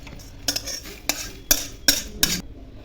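A metal spoon scrapes and clinks against a pan while golden, low-flame-roasted ingredients for ginger chutney are moved onto a plate: about six sharp, close knocks at irregular intervals over a soft scraping bed, with no talking.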